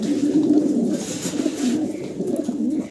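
German Beauty Homer pigeons coo softly and continuously nearby, low throaty rolling calls repeating throughout the short stretch.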